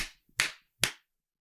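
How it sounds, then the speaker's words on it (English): Sharp hand claps made close to a microphone, one fading at the start and two distinct, crisp claps about half a second apart, each with a quick decay into silence. "on 3, clap 3 times by your microphone"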